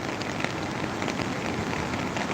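Heavy rain pours steadily during a storm near a river dam, a dense, constant hiss of drops beating on surfaces, loud and close with no voices.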